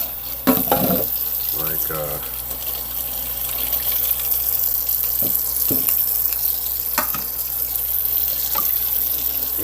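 Running water from a tap pours steadily into a sink, rinsing out a Honeywell HWM440/445 humidifier, with a brief spoken word and a few light clunks from handling the unit.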